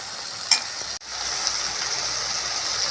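Tomatoes sizzling in a pan for channa masala gravy, a steady soft frying hiss with a brief clink and a short gap near the start.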